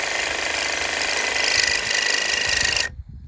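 A Sawzall reciprocating saw cuts down metal anchors at a farm drainage tile pumping station, a loud, steady, buzzing rasp that runs for about three seconds and then stops abruptly.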